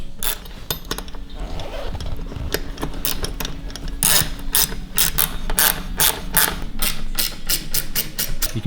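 A ratchet tightens the feet of S+S roof bars on a vehicle roof, giving rapid, steady clicking strokes in repeated bursts, close and clear over faint background noise.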